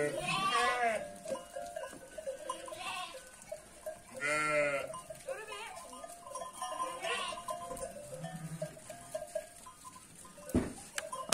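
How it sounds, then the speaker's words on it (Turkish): Sheep and lambs in a barn on a Turkish farm, repeated bleats of varied pitch, some close and loud and others fainter in the background, scattered across the scene with livestock shuffling between them. "Yine ahır aydık koyunları. Kuzuları saldık dışarı."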